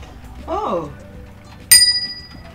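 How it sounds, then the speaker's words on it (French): A short descending vocal sound, then a single bright metallic ding of a subscribe notification bell that rings out and fades, close and clear. "C'est le bruit de la cloche quand vous vous abonnez"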